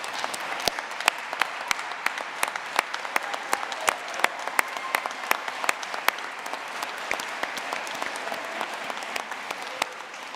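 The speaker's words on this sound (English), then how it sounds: "let's stand up and give Nick a round of applause." Sustained applause from a university commencement audience, many hands clapping steadily in a large crowd with a few sharper nearby claps standing out throughout.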